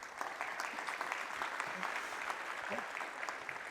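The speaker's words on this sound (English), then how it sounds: "If you join me in a round of applause." A conference audience gives a steady round of applause, many hands clapping together in a dense, even wash heard from inside the hall, fairly soft overall.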